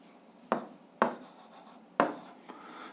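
Pen strokes on paper while a physics solution is written down: three distinct sharp scratchy strokes spaced about half a second to a second apart, with faint rubbing between, close and quiet.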